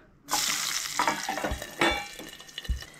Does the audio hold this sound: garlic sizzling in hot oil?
yes